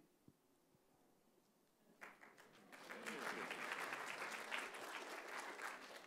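Applause at a constitution lecture event as names are read out, starting with a few scattered claps near the start, then building into sustained, moderately loud clapping from a seated audience.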